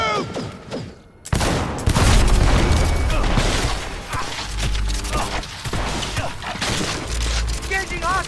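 Rapid bursts of gunfire and heavy impacts in a Cyberpunk 2077 firefight, loud and dense over several seconds, with shouted voices and a music bed underneath.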